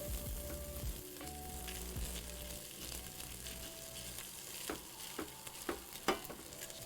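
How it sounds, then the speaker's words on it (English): Raw rice toasting in a hot pan on a stovetop, a steady close sizzle and crackle with occasional scraping stir clicks, no voices. "And now we know that we're toasting the rice when it starts to go"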